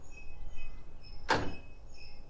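Handle on a Milgard Ultra Contemporary entry door thrown up to drive the multipoint bolts into the strike plate, a single sharp metallic clack in a quiet room.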